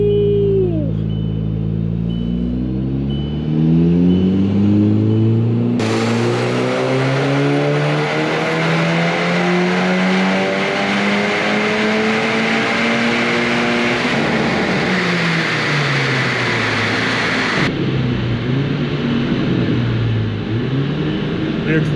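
A K04-turbocharged Mk5 Golf GTI roars through a full-throttle pull, engine pitch climbing steadily through gears with brief dips at each shift, loud and close from inside the car, a voice briefly audible.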